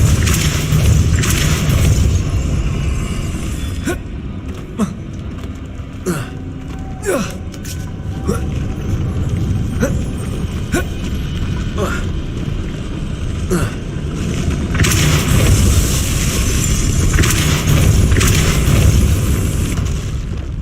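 Confringo blasting curse explosions in the video game Hogwarts Legacy, with heavy booms and crackling blasts that keep rumbling over about twenty seconds. Sharp impacts are scattered through, and a louder stretch of blasts comes near the end.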